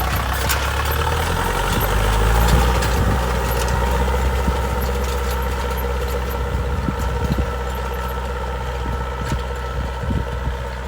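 A small tractor engine runs steadily close by while pulling a heavy homemade cultivator of about 450–500 kg through a garden plot, a continuous low rumble with faint rattles and knocks throughout.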